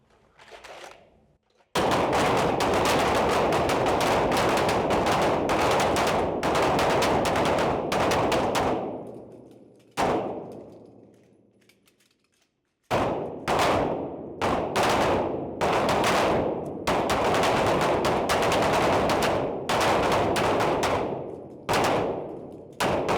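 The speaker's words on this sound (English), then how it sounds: "you're going to draw and fire 6 rounds standing" Police academy recruits firing handguns at targets on an outdoor range, rapid overlapping volleys of loud sharp shots from several shooters in long dense bursts, with a pause and ringing tail before the next string.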